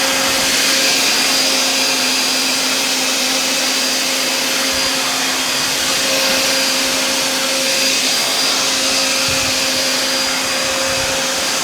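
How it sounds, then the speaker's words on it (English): Wet/dry shop vacuum running steadily with a floor attachment over carpeting, a loud continuous motor whine and airflow roar with a steady tonal hum, unbroken for the whole stretch and no talk. "let's try this attachment here, and let's just see how it cleans this carpeting here"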